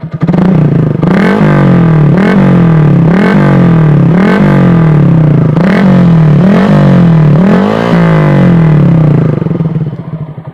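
An MX King 150 motorcycle with aftermarket exhaust number 5 revving in a steady series of about eight quick throttle blips over a bassy idle, loud and close, no voices.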